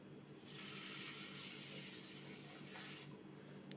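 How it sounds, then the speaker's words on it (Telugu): Green gram lentils washed in water, a soft swishing rush of running water that swells for about three seconds at close range, fairly quiet, with no talking. "చూసుకొని చక్కగా 2-3 సార్లు బాగా వాష్ చేసి రాళ్ళేమీ లేకుండా చక్కగా గాలించేసుకోవాలి."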